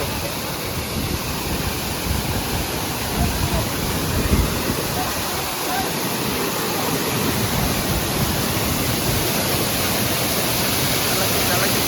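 Thirparappu waterfall in Kanyakumari, a steady loud roar of falling water filling the whole scene without letup.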